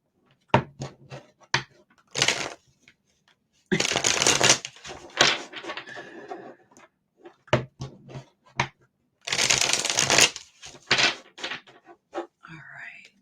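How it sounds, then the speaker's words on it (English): Several tarot card decks shuffled in bursts of crisp riffling and soft slaps, close and dry, separated by short quiet gaps with small handling clicks. "Let me just shuffle all of them."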